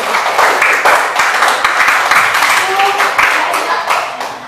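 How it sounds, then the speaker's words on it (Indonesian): Students in an Indonesian classroom give a round of applause, many hands clapping together in a loud, rapid patter that holds steady for several seconds, with some voices mixed in. "Beri tepuk tangan dulu."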